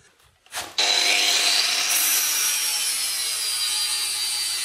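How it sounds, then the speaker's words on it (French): A small angle grinder cuts loose metal remnants in a workshop during the teardown of a turbo BMW E36 pro drift car, a loud continuous abrasive whine that kicks in after a brief start and holds steady without pause. "à la petite meuleuse, on enlève tous les morceaux."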